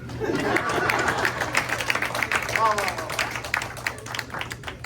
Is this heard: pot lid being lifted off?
no